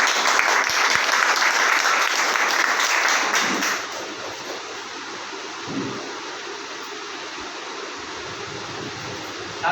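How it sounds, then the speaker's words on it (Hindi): An audience at a company plan presentation claps loudly and steadily for about four seconds, then the applause thins to a softer patter. It fills the hall with dense, even noise. "एक बार जोरदार तालियां हो जाए"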